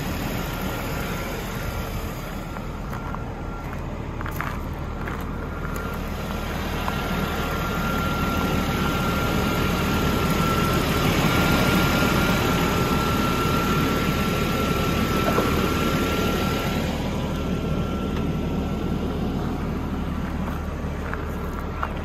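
Red 1993 Jaguar XJS with its 4-litre engine running steadily at idle, a continuous low rumble with a faint whine, swelling slightly midway and holding at an even level throughout.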